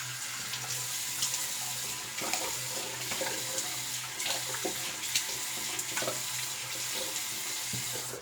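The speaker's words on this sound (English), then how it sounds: "let's do cold water rinse." Cold tap water runs steadily into a sink or shaving bowl during a wet shave lather session, a continuous close splashing stream with small fluctuations and no talk.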